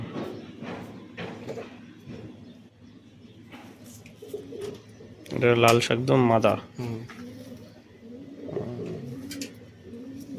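Pigeons of Giribaz, Madrasi and Malwai breeds coo softly in low, repeated murmurs beneath a nearby conversation, with a louder burst of talk in the middle.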